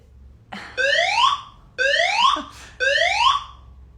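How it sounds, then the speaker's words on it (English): A fire alarm sounds three times in a regular rhythm, each a loud, rising electronic whoop, with brief gaps between repeats. "Attention. Attention. Fire alarm. Evacuate now."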